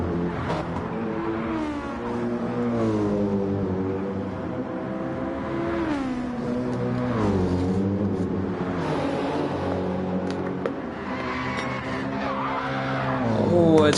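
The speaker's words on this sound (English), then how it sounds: "Oh, it's some serious tyre squeal there." Race car tyres squealing hard at the Nürburgring during a four-hour endurance race, a loud sustained screech with shifting pitch over engine noise, running almost without break.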